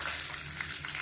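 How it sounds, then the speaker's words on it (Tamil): Mustard seeds, urad dal, cumin, fenugreek and dried red chillies crackle and sizzle in hot oil, a steady, close frying hiss with fine popping throughout. "எண்ணெய் சூடானதும் 1 டீஸ்பூன் போல் கடுகு, 1 டீஸ்பூன் உளுந்து சேர்த்துக்கலாம்"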